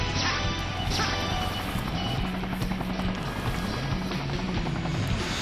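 Helicopter in the Speed Highway stage of the video game Sonic Generations, a steady loud rotor drone layered with crashing impacts and busy game effects, with no talking.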